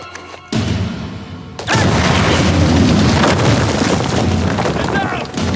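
A heavy explosion booms in the video game Uncharted: Legacy of Thieves, a short burst followed by a loud, sustained rumble and crackling debris that fill the rest of the scene.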